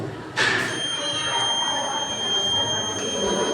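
A homemade flood alarm buzzer gives a steady electronic tone as water is poured into it, starting just after a brief splash-like burst and holding through the rest.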